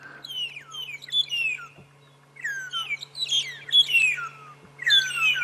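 Burchell's starlings give a run of loud whistled calls and chirps on a morning safari drive in the African bush, bursts of song separated by brief pauses over a steady low engine hum.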